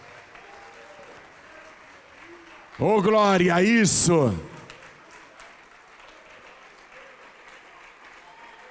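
A church congregation keeps up a soft, steady wash of applause while a voice breaks over it with a loud, drawn-out exclamation for about a second and a half.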